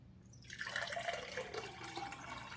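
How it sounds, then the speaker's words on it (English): Water pours from a filter pitcher into a glass, a faint, close, bubbling stream that starts after a brief silence and keeps running for a couple of seconds. "Now, let's just see how it pours into a normal glass."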